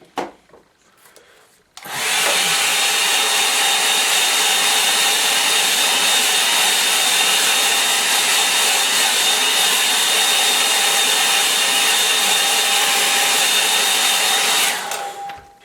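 Hair dryer blowing steadily and loudly on a burnt umber tone study painting of trees and a rocky stream, switching on after a quiet start, running for about thirteen seconds, then cutting off.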